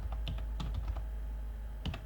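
Rapid keystrokes on a computer keyboard as an IP route command is entered while setting up a LAN with two routers, irregular clicks with short pauses, close and clear over a steady low hum.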